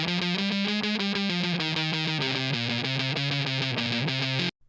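Reamped electric guitar through a newly dialed distorted amp, a steady, saturated riff of chugging notes shifting pitch every second or so, loud and close throughout before cutting off abruptly, no voices.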